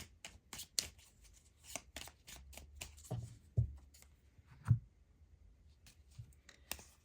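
Forest Fae tarot cards are shuffled and drawn: quiet, irregular papery riffles and crisp card clicks, with a few softer thumps as cards are set down. No one speaks.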